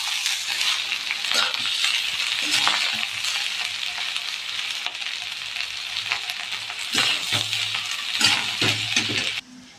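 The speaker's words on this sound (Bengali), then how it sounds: "ভালো করে নেড়ে একটু ভেজে নেবো।" Cooked rice with salt and sugar is stir-fried in a pan, giving a steady sizzle with repeated scraping and clinking of a spatula against the metal, close and fairly loud, without any talking.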